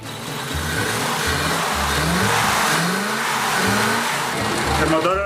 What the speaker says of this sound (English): The engine is original. It's a V8.